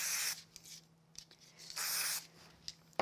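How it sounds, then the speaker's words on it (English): Spray glue misted onto the backs of paper pieces for card making: several short hissing bursts of spray, faint and close, separated by quiet pauses with soft handling noises. "So I'll use a little bit of spray glue for that. Just spray the back of these."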